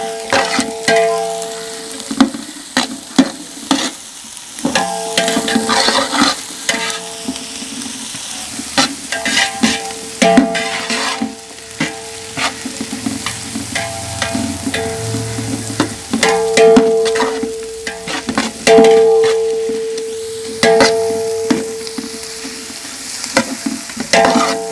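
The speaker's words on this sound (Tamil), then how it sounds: "வெங்காயம் வதங்கின உடனே அரிஞ்சு வச்சிருக்கிற குடமிளகாவை போட்டு வதக்கிக்கலாம்." Chopped capsicum and onion sautéing in a pan for idli manchurian, with steady sizzling and frequent loud scraping stirs and utensil clinks close by, no talk.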